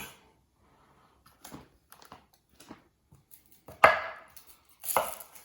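A kitchen knife chops shallots on a cutting board in sparse, uneven taps and cuts, growing louder near the end with a couple of firm strikes, heard close with no talk.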